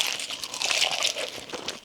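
A close bite into a fried chicken thigh coated in a light egg batter crust gives a quick, crisp crunch with moist crackling, loud and near, and no talking.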